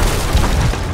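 Deep, rumbling boom of cannon fire during a ship battle in Sea of Thieves, loud and close, filling the whole moment as a dense sustained blast with no talk.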